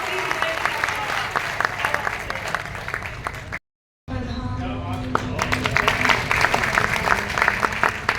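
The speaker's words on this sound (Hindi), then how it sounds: "जोरदार तालियां हो" Loud audience applause at a Hindi poetry recital, a dense crowd clapping steadily, cut by a brief moment of silence before resuming with scattered voices underneath.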